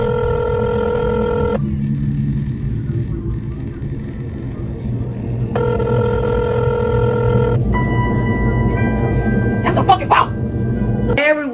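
An outgoing phone call rings unanswered, repeated electronic ring tones in long bursts separated by pauses, over a constant low rumble like a car interior, with a brief clatter near the end.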